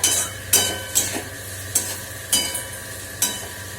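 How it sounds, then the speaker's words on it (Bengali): Potatoes sizzle steadily in a hot pan while a spatula scrapes and stirs them in sharp, regular strokes, roughly one every half second, close and clear with no talking. "এই যে আলু ভাজাটা মোটামুটি হয়ে গেছে"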